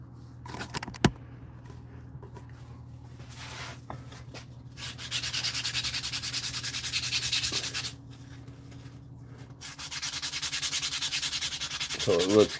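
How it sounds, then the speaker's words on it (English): Heavier-grit sandpaper rubs across molded leather in two sustained scratchy bursts of back-and-forth sanding, close and fairly quiet, separated by brief knocks and pauses. "So I'm gonna fine tune it now. With some heavier grit sandpaper here."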